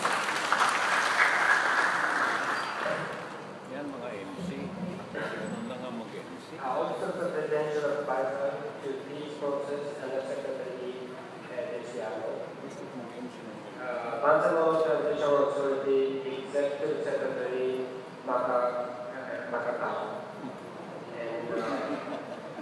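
Warm applause welcomes the Deputy Chief of Mission of the Japanese Embassy at an official ceremony. Loud clapping opens for about three seconds, then gives way to someone speaking at a podium.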